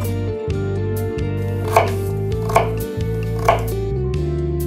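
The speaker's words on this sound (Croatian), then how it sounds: "Kad ste ogulili batat i krumpir, narežite ga na koskice." A knife dicing peeled purple sweet potato and potato into cubes on a cutting board, steady close rhythmic chops with a few harder knocks, no talking.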